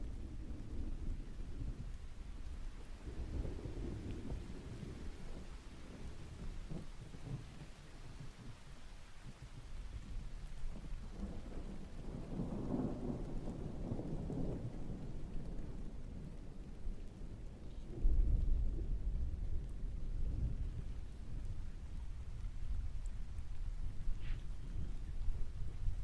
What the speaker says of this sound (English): It's been raining and thundering nonstop for months.